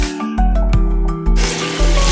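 Water splashes and gurgles as it is poured into a container of salt for soaking chicken, a close, loud filling sound broken by short pauses.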